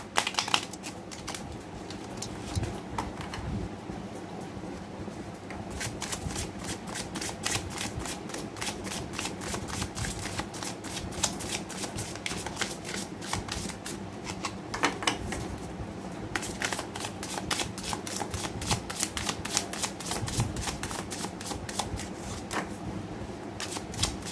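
Tarot cards being shuffled close up in a long continuous stream of rapid papery riffles and flicks, dense and steady with brief pauses, no talking over it.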